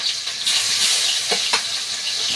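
Onions fry in oil for a curry with a constant, close, bright sizzle and a couple of soft stirring scrapes, with no talking over it.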